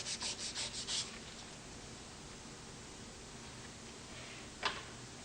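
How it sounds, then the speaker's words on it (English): Hand sanding of turned wood sections gives a few quick, close rubbing strokes at the start, then a soft steady hiss with one brief scrape near the end. "Sand both turn sections by hand."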